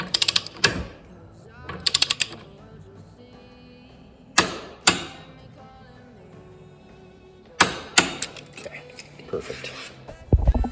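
A ratchet tightening a bolt during an ibackshift clutch install, with rapid clicking bursts repeated several times between pauses, close and sharp, with faint mechanical rattles between.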